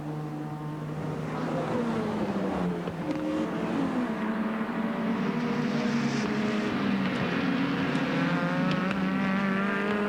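BMW touring cars racing at Amaroo Park in 1988, snarling engines rising and falling in pitch as cars pass, continuous and fairly close with no voices.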